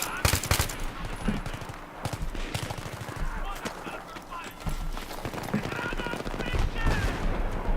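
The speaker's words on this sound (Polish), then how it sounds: "Tam jakieś kurwy strzelają" Gunfire in the video game Battlefield 3, rapid rattling bursts and repeated single shots at close to middle distance, with people talking over the shooting.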